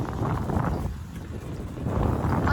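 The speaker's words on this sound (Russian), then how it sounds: "Ветер." Gusty mountain wind at the Dragobrat ski resort buffets the microphone as a steady low rumble, swelling slightly toward the end, with no voices.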